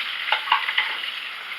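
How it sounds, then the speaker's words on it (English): Spoon stirring green beans with potatoes and ham in a pot, a few close clinks and wet scrapes over a soft steady simmering hiss, brief and without talk. "I'm just going to give these a good stir"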